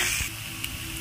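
Ginger garlic paste sizzles and fries in a pan for kachori filling, a steady close hiss with a faint stir, no talking.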